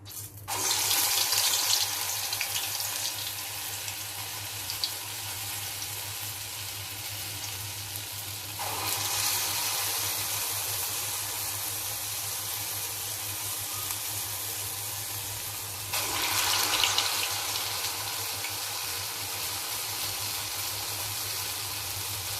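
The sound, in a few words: medu vada batter frying in hot oil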